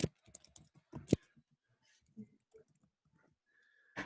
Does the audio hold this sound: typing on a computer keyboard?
yes